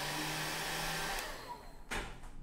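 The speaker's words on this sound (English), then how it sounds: "come back in, pop the hair dryer." A handheld hair dryer blows close and loud as a steady whoosh with a motor whine, cutting off partway through before a brief burst of airflow returns.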